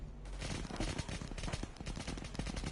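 Sustained rapid gunfire in the Roblox video game Tha Bronx 3, a dense, continuous rattle of shots at moderate loudness with no talking over it.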